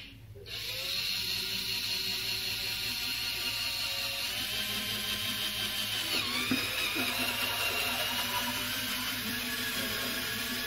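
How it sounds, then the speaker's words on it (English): A steady high-pitched power drill whine, a 10 mm bit drilling into a plastic aquarium drain pipe, runs continuously after a brief start, close and loud, with a small shift in pitch midway. "I'm just using a 10 mm drill bit and straight drilling into the sides of these"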